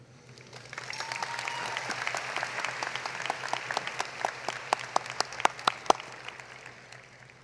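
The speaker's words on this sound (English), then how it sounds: "I give all of our students a round of applause." Graduation audience applauds the class of 2022 students at the Polk Grad Academy and Polk Virtual School ceremony, a broad wash of steady clapping that swells and holds, with a few sharp, distinct claps standing out near the end before fading.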